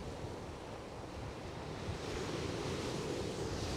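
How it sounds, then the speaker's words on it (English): Steady ocean surf rolling and hissing, with wind buffeting the microphone throughout; no voices, a continuous wash of waves. "Now the waves are moving around a lot"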